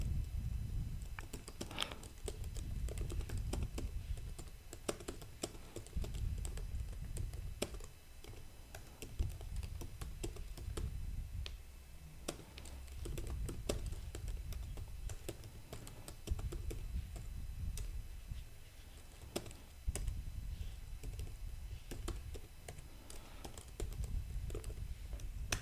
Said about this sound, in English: Then I'll just type